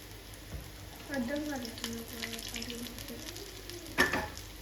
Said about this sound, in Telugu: ఆయిల్లో వేస్తే హీట్కి ఫ్రై అవుద్ది కాబట్టి అలాగే ఉంటుంది